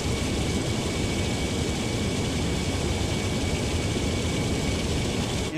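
Jet airliner roar from a British Airways A350 touching down in Microsoft Flight Simulator 2024, a steady loud broadband rush with low engine rumble holding constant throughout, no voices.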